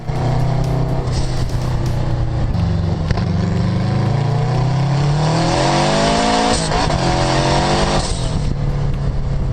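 A loud 2.5-liter turbocharged car engine roars and revs continuously on a test drive, its pitch climbing and falling as it accelerates, with a brief tire squeal and no voices.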